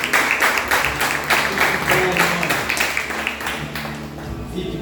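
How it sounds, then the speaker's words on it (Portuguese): Church congregation applauding during a Sunday celebration service, a dense steady wash of many hands clapping with faint music and voices mixed in, sustained for several seconds before easing slightly. "Aplauda o Senhor Jesus."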